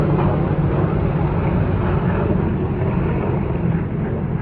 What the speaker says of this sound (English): There's some big helicopters that just flew by.